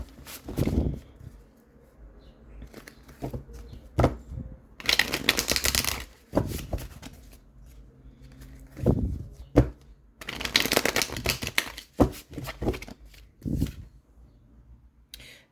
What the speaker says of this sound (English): So let's pull some tarot cards and see what's coming out for you